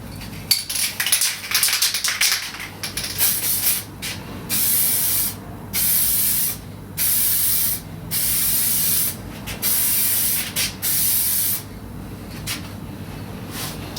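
Vintage amber nitrocellulose lacquer sprayed from a spray gun in a series of short, evenly spaced bursts of steady hiss, each lasting about a second, with a low background hum between passes and no talking.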